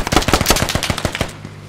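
Machine gun fire in the video game Squad: a rapid burst of about a dozen loud, close shots in an even rhythm, cutting off abruptly.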